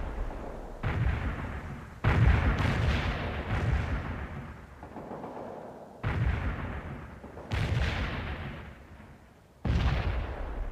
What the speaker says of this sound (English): Barrage hit for full effect.